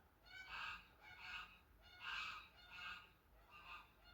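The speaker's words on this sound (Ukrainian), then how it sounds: "гусак кричить." A gander honks repeatedly at night in five loud, nasal bursts spaced about a second apart, close by against quiet background hiss.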